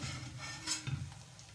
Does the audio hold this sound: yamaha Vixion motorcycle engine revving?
no